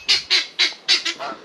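Geese on a farm honk loudly and close by in a rapid series of about six harsh calls, being walked into their enclosure, with no talk.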